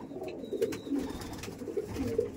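A green Madras pigeon, a female of an old Kolkata line, coos in soft low rounded phrases repeated a few times, close by, with faint background noise and no talk.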